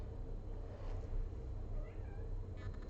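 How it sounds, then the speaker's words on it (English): A cat gives a faint, distant meow, barely rising above a steady low background rumble, with a short wavering call partway through. "Oh, I hear a kitty cat."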